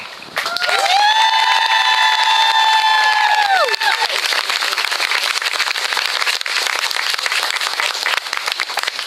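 A large, engaged crowd at a Women for Wendy campaign rally cheers and applauds after a speech by Senator Wendy Davis, with a loud, sustained roar and long whistles near the start, then steady dense clapping.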